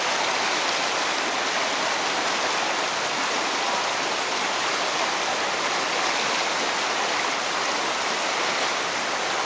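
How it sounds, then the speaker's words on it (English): A river rushes steadily past a campsite near Havasu Falls, a dense, loud, unbroken wash of flowing water close by, with no voices. "here's a beautiful campsite right on the river"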